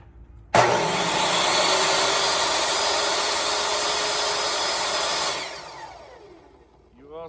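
A table saw rips through a rough-cut wood slab with the blade set just above the wood. It starts abruptly with a loud, steady, whining roar held for about five seconds, then winds down as the blade spins to a stop.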